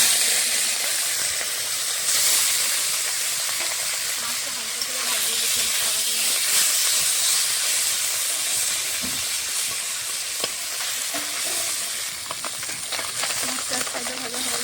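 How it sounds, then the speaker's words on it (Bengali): Small fish coated with turmeric and salt fry in hot mustard oil in a wok, a loud, continuous close sizzle with scattered pops and crackles, and no talking. "এখন ভেজে নেব কড়াতে মাছ ভাজার জন্য সর্ষের তেল দিয়ে দিয়েছি গরম হয়ে গেছে"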